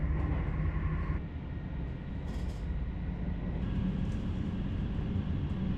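A Dutch Koploper electric train runs along the classic line near Schiphol toward Leiden, with a steady, loud rumble and wheel and motor drone that holds throughout.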